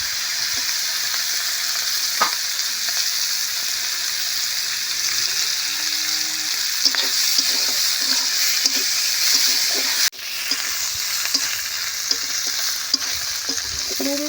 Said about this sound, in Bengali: এখন চিংড়িটা ভেজে নেব। চিংড়িটা বেশ ভালো করে লাল লাল করে ভেজে নেব।